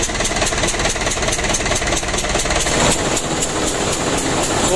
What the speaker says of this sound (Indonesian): Suaranya sangat keras kayak lur. Bisa kedengeran ya suaranya ya. Seperti nozzle bocor lur, ataupun packing diesel ya bocor.